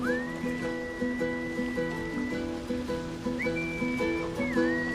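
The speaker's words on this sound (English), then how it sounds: "And he whistles!" A bard character in Baldur's Gate 3 whistles long sustained notes over a plucked, rhythmic lute-like tune, clear and up front with no talking.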